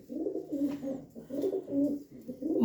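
Several kabootar pigeons coo nearby in overlapping, throaty rolling calls that rise and fall steadily, with no talk over them.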